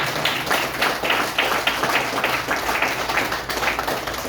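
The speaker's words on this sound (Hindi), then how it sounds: "एक बार फिर से जोरदार और शानदार ताली होनी चाहिए" Steady, energetic clapping from a seated audience at a network marketing talk, many hands beating in a loose rhythm that holds evenly for several seconds with no voices over it.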